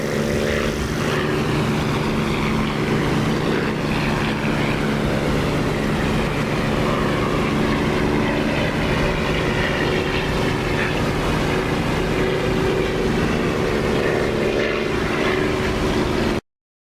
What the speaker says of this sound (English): Okay, so we got under an F-16. Just taking off.